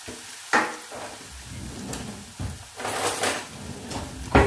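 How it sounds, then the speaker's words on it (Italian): Diced potatoes frying in hot olive oil in a pan give a steady sizzle, broken by several sharp clattering bursts as the pieces are stirred and moved about. "Ho messo dell'olio d'oliva in padella, l'ho fatto riscaldare, inizio a friggere le mie patate."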